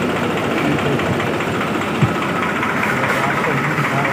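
Tractor-driven rice mill on trial, a loud, steady low engine drone with a knocking, vibrating mechanical rumble running throughout, while someone talks over it.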